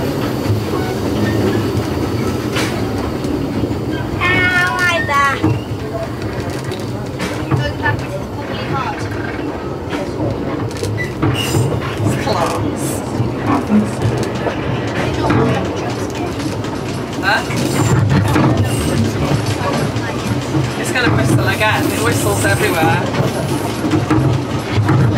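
Steam train on the Rheidol railway between Aberystwyth and Devil's Bridge, heard from aboard as loud continuous rumble and clickety-clack of wheels with squeals, while people talk intermittently throughout.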